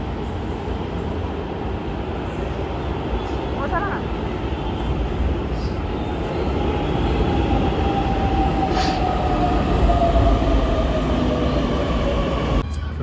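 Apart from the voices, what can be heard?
Pune Metro train arriving at station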